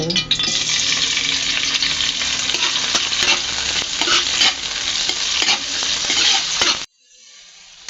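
Tomatoes sauté with onion and garlic in a hot pan, a loud, steady sizzle with stirring scrapes running for about seven seconds before cutting off abruptly to a faint hiss.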